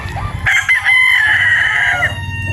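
A brood stag rooster crows once, close and loud, a long sustained cock-a-doodle call over low background rumble, with no talking during the crow.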